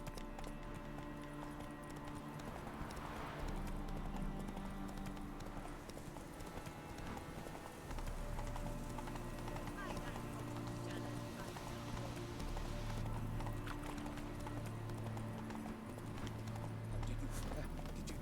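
Horse hooves gallop at a steady clip-clop in The Witcher 3, faint and under a mix of game music and ambience, continuing throughout the passage with occasional voices.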